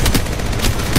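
Rapid automatic gunfire in Apex Legends Mobile, loud and close, a quick rhythmic string of shots over about a second.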